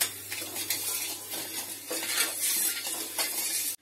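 Moong dal with sugar and ghee stirred continuously in a pan while the sugar melts, a spoon scraping and clinking against the metal with soft sizzling, close and steady with no speech.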